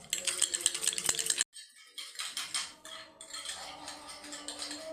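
A spoon scraping and clinking against a bowl while stirring a face pack of aloe vera and Vaseline, a steady rattling run that breaks off briefly and then resumes more softly, close by with no talking.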